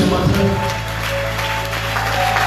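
A church congregation applauds at a Sunday service, producing a dense, continuous wash of clapping that fills the room and sits around a sustained musical backing.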